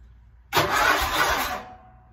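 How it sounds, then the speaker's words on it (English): A riding lawn mower engine cranks and catches, a loud burst of starter and engine noise lasting about a second after a quiet moment, then dropping away. "get on your mower and you start it"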